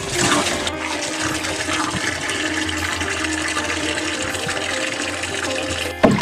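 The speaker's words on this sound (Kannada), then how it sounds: "ಸ್ವಲ್ಪ ನೀರು ಹಾಕಿ ಎಲ್ಲ ಮಿಕ್ಸ್ ಮಾಡಾದ್ಮೇಲೆ ಫುಲ್ ನೀರು ಹಾಕಿ" Water rushes steadily into a drum being filled to mix jeevamrutha for zero budget natural farming, a loud, continuous pouring sound that runs unbroken for several seconds.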